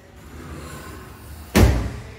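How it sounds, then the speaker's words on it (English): A sliding closet door rolls along its track and closes with a single solid thud in an empty room, loud and close against a faint background hiss. "fair size closet, sliding doors."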